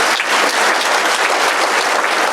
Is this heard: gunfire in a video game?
no